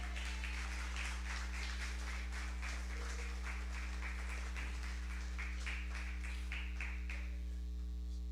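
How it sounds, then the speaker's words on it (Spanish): Church congregation clapping a steady rhythm for the Lord during a service, the claps soft and distant over a loud constant electrical hum, the clapping fading out toward the end. "Démosle palmas al Señor, hermano,"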